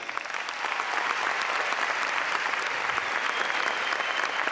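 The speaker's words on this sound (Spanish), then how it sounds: "yo le voy a pedir el aplauso más grande de la noche para Willy Díaz" Audience at a 2012 drag gala in Arrecife breaks into loud, sustained applause, a dense wash of clapping that holds steady throughout with no pauses.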